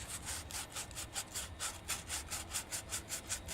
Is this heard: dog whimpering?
no